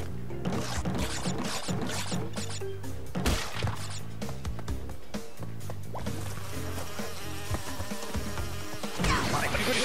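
Swarming bees from Crash Bandicoot 2 N'sane Trilogy drone loudly and continuously, buried in dense game music and repeated thuds and crashes with no voices.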